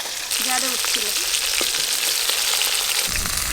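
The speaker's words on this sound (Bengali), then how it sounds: "খুব ভালো করে মাছ ভাজা হয়ে গেছে" Pieces of bhetki fish fry in oil in a loud, close, steady sizzle with crackling spatter, after a brief quieter moment at the start and no clear talk.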